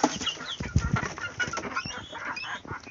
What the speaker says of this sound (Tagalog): Ay, parang ano, parang white leghorn.